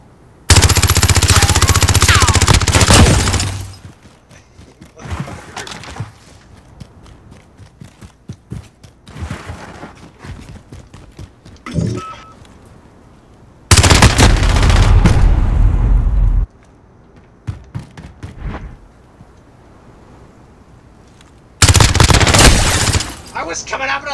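Heavy automatic gunfire rattles in three loud, sustained bursts during a 1v1 video game match, with quieter shots, steps and a voice talking in the gaps between.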